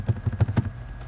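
A computer keyboard is typed on in Word 2007 with about five quick, soft keystrokes in a steady burst, close and clear, followed by quiet.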